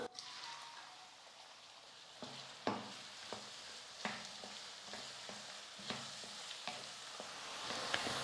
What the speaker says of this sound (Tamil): இப்போ வெங்காயம் பச்சை மிளகாய் ரெண்டையும் எண்ணெயில் சேர்த்துக்கலாம்.